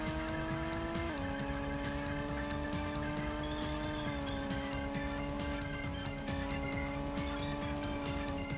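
A race car in the Pro Racer video game holds a steady, high engine whine at speed, dipping in pitch briefly as it shifts or corners, with faint tire scrubbing underneath.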